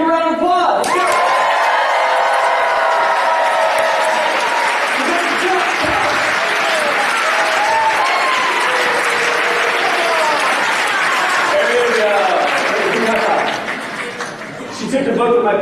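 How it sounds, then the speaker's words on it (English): A live audience at a high school and college student talk bursts into loud, sustained applause with whoops and cheers, staying dense and continuous for around thirteen seconds before thinning out near the end. "Give a round of applause."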